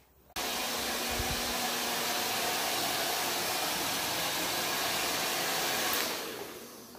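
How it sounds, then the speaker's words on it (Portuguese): A hair dryer switches on abruptly and blows hair with a loud, steady whooshing roar for several seconds before winding down at the end, with no talking. "Para eu acertar esse cabelo, eu vou secar ele."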